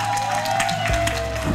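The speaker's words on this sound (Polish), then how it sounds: "Wielkie brawa dla Uli!" A crowd applauds at a city celebration in Biała Podlaska for a woman who won the individual cycling competition after riding 6231 km. The clapping is steady and even, with a constant tone and a low hum underneath.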